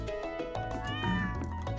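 A kitten meows in the farming video game Stardew Valley, a clear drawn-out mewing call over game music, with no talking.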